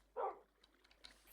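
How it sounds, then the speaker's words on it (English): Dog in the Minecraft video game giving a single short bark, followed by faint soft clicks and game sounds, no talk. "I bounced off the dog."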